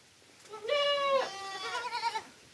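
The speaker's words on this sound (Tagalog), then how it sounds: "may mga kambing pa pala dito sa loob" A goat bleats inside a goat house, one long wavering cry close by followed by a shorter quavering bleat.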